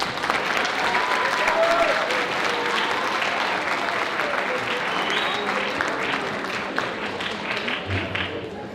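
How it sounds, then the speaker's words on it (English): Audience applause at a high school and middle school winter band concert, a dense, steady wash of clapping from a large crowd that holds strong and tapers slightly toward the end. "Let's hear a round of applause if you heard us march in last week's Christmas parade."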